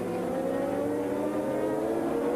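Endurance racing motorcycles at the Bol d'Or 24-hour race, with works machines among them, roar past in a loud, steady, continuous engine drone with no break.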